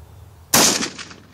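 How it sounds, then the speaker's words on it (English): A single sharp gunshot cracks out close by, loud and sudden, and its echo trails off over about a second. "It's my third time shooting a gun."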